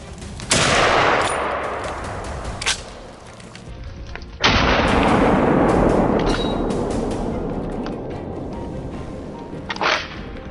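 A single sharp gunshot cracks out in a deep forest to open a wild boar hunt, with a second loud blast a few seconds later and smaller reports between, each followed by a long rolling echo through the trees.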